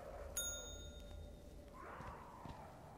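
Bell ringing in the video game Singularity, a single bright struck tone that lingers and decays, over a low ambient game drone.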